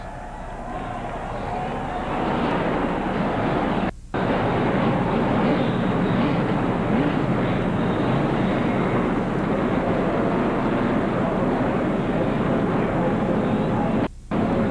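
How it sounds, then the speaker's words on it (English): A field of NASCAR Busch Grand National race cars fires up at the 1992 Detroit Gasket 200. The engine noise swells within a couple of seconds into a loud, sustained roar, with a couple of brief dropouts. "start your engines"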